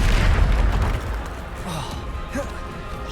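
A Bombarda explosion spell in Hogwarts Legacy lands as a loud, rumbling boom at the start and fades into a low game soundscape with small magical whooshes, while a voice talks over it.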